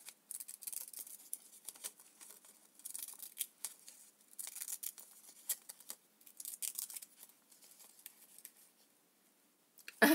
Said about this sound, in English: I want to cut the edge of that off